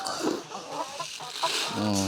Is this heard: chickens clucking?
yes